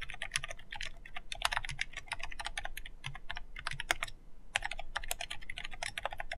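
Rapid, clattery keystrokes on a computer keyboard, close and fairly loud, with brief pauses between bursts.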